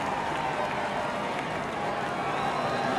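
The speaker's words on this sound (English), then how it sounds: "Been a boisterous crowd." A boisterous crowd at a NASCAR race cheers in a loud, steady roar that holds for the whole stretch without a break, close and dense, with no clear voice standing out from the mass.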